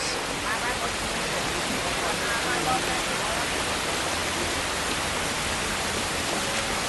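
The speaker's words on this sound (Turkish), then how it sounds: "fedana yağmur yağıyor" Steady rain falls over the town of Fedan, heard as a dense, even hiss that runs unbroken from start to finish without any pauses.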